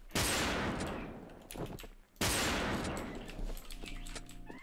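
In the Wolfteam video game, a gun lets off two sharp bursts of rapid gunfire. They are loud and close with a short pause between them, and faint electronic game tones come in at the end.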